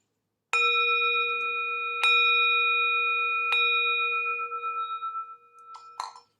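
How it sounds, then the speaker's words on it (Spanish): Three separate ringing strokes of a meditation gong open a session, each struck a second and a half apart, clear and close, with long bright tones that overlap and slowly fade, followed by a soft clatter. "Y tras esos 3 golpes de gong"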